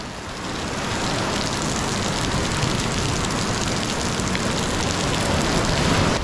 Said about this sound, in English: We made it! At the waterfall!